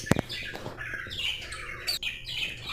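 A newly hatched bird chick calls with repeated thin, squawky cheeps close by, alongside a few sharp taps.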